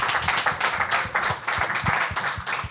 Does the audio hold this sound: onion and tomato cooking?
no